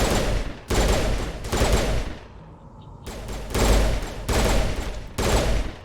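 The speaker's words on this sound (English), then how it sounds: "I don't like the burst shot." Burst-fire rifle shots in the video game Mass Effect: loud, dense bursts of gunfire repeat in quick succession, broken by one short quiet pause near the middle before the shooting resumes.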